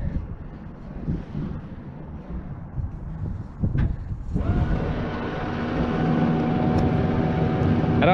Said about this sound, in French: le bruit que vous entendez, c'est le propulseur d'étrave.